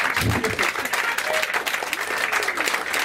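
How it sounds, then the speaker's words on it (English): Listeners at a kick-off speech break into dense, even applause, a continuous wash of many hands clapping close by for about three seconds, with faint voices mixed in. "I'll take applause for that."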